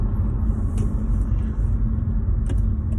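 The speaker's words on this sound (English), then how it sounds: "I'm taking the BMW out for a test drive" A BMW 325xi E46 with a rough-running fault sets off on a test drive. A steady low engine and road rumble fills the cabin, with a couple of faint clicks and no talking.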